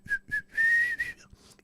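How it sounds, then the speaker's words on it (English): A person whistles a short tune in a few phrases, brief notes then a longer sustained run, fairly near and alone with no talk. "my whistling is terrible"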